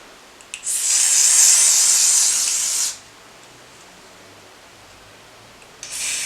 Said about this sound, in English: I'm just gonna go ahead and just spray. I'm using my Got To Be spray.